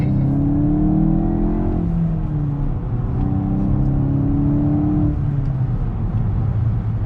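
A 2024 VW GTI with its turbo engine accelerating hard, a steady rising engine drone heard from inside the car, loud and continuous with rising pitch sweeps as it pulls through the gears.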